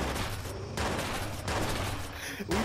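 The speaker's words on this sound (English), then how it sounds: "We trading off shots right now." Rapid gunfire traded back and forth in a video game, with sustained bursts of shots running through most of the moment, loud and close, with a player's voice faintly mixed in.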